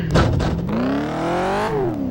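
Ashland car engine in the racing game Test Drive Eve of Destruction, a close, loud motor whose pitch climbs steadily under acceleration after a brief thump, then dips as it shifts.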